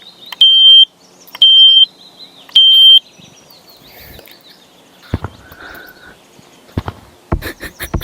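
A smoke detector heard in Gorilla Tag sounds three loud, piercing beeps spaced about a second apart, followed by scattered clicks, knocks and faint shuffling noises.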